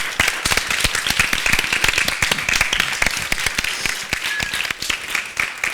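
Sustained audience applause closing a talk session, a dense wash of many hands clapping at steady loudness throughout with no voices on top.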